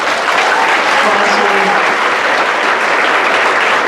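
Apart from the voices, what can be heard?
audience clapping applause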